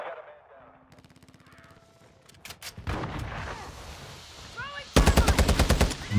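Gunfire in a video game, including a shotgun, bursts out in a rapid, loud volley of repeated shots near the end, after scattered earlier shots and game sounds, with voices talking throughout.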